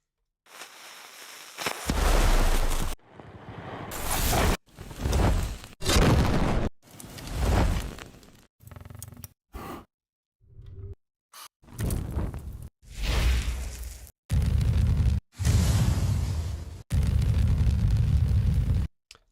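A designed fire effect built with granular synthesis for an anime-style sound design piece plays as a series of loud roaring bursts and whooshes, broken by abrupt cuts and short silences, without talk.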